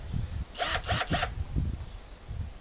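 A Vitals 18V cordless drill-driver gives three short bursts of whirring, close and loud, separated by brief pauses, with low handling noise around them.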